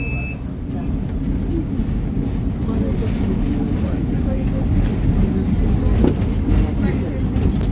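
A Rome tram between Trastevere and Piazza Venezia rolls along its rails with a steady low rumble and occasional metallic squeaks, continuous and fairly close throughout.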